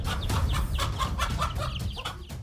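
A mother hen clucks repeatedly and urgently while guarding her chicks against a cobra. The calls are close and fairly loud, coming in a quick, broken rhythm over a low rumbling background.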